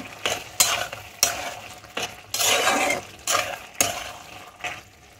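A bottle gourd and prawn curry with fried potatoes is stirred in a pan, each pass giving a wet scraping swish with a soft sizzle, repeated in a rhythmic series of strokes without speech.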